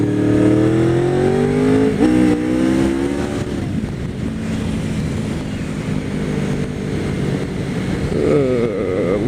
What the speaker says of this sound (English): Little second gear wheelie just off of horsepower.